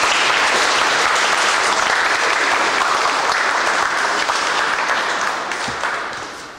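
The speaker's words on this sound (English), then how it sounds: "Let's give them a round of applause." Wedding guests applauding the newly proclaimed husband and wife, a full, steady round of clapping from a roomful of people that holds strong before gradually fading out at the end.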